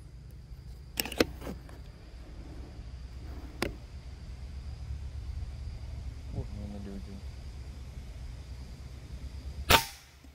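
A few sharp, snappy air rifle shots ring out, spaced irregularly, with a louder crack near the end over quiet background ambience.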